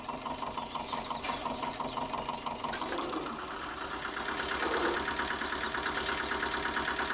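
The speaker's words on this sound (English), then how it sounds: "whilst we've got the tractor out, which has just clicked onto its 101st hour" A farm tractor's engine, on its 101st hour, runs steadily and close by with a continuous mid-pitched mechanical drone and rapid knocking pulse, swelling slightly louder toward the end.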